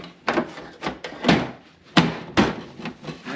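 The door on a Ryobi tile saw is fitted back into place, giving a series of about seven hard plastic-and-metal clunks and knocks at an uneven rhythm, close and fairly loud, with no talking.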